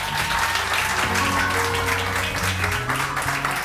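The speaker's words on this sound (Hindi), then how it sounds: "तालियां।" Studio audience applause on a morning television show, a steady wash of clapping running under music throughout the short stretch.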